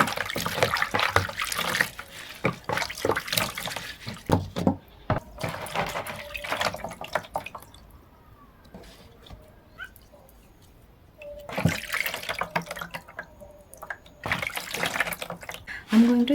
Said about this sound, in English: I'll wash my vegetables.